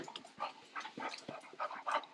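Dogs greeting up close with quick panting breaths, soft whimpers and small yips in short excited bursts, without speech.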